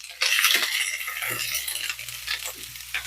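Cabbage sizzles loudly in a hot frying pan as it is flipped and browns, with scraping stirs and utensil clatter against the pan, and no talking.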